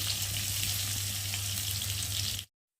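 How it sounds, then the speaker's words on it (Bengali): Potato pieces sizzle steadily in hot oil, a dense crackling hiss close up, cutting off abruptly. "এই যে কেটে রাখা আলুগুলোকে দিয়ে প্রথমে ভেজে নেব"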